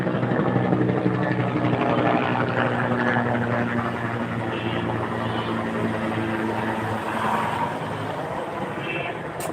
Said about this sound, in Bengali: হেলিকপ্টার যাচ্ছে দেখেন